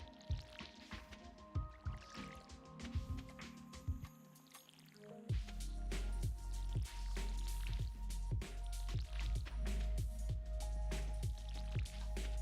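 Repeated watery splashes and drips from a watering can sprinkling crops in the farming game Stardew Valley, coming in a steady run of short bursts over background music.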